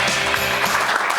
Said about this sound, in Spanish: Un aplauso para él, gracias.